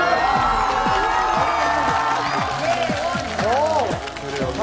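Studio audience applause on a Korean TV talk show, with a guest clapping along: a steady, dense patter of many hands, loud and close, with voices mixed in.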